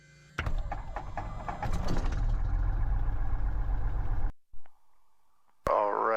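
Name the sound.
Cessna 172 piston engine idling after start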